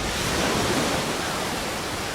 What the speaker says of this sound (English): Now this is how ocean waves sound here on Earth.